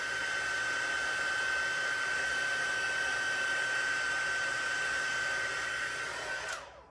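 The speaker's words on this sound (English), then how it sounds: "I just love heat embossing." A heat gun blows a steady, close whooshing hum while heat embossing a handmade Christmas card, running unbroken for several seconds before cutting off abruptly at the end, with no speech.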